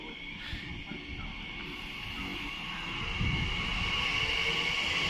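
A train pulls away from Ealing Broadway station on the Great Western Main Line, rumbling and humming steadily, with a sustained high metallic singing tone from the rails growing slightly louder.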